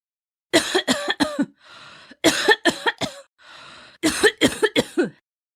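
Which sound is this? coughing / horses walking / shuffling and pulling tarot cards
coughing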